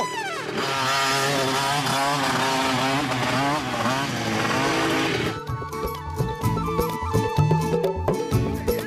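A cartoon vehicle engine revs and accelerates with a rising, whining motor buzz up close, giving way to an excited musical score with sharp hits.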